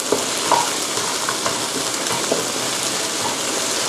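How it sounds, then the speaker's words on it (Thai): Noodles stir-fried with water mimosa in a pan for Thai sen mhee phad kra shed, a steady close sizzle with light scraping stirs, no talking. "ผัดให้พอสุกนะคะ"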